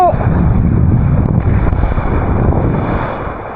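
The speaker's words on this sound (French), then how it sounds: "Et le vent s'accélère." Strong wind roars steadily against the microphone while kitesurfing off the Basque coast in the Bay of Biscay, a loud continuous buffeting rush with ocean noise underneath.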